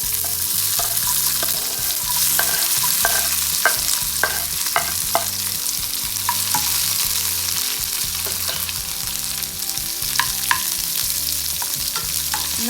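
Dried red chillies, curry leaves, mustard seeds and onion fry in hot oil with a continuous close sizzle, punctuated by regular spatula taps and stirring scrapes, and nobody speaks.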